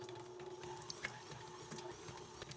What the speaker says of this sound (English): I'm going to take the butter, we'll put it in the stand mixer, and we'll get that going